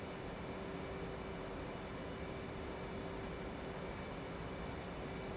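A Su-33 jet in the DCS World flight simulator flies past with a steady, continuous engine roar and a faint whine layered on top. The drone holds at an even level throughout, with no talking.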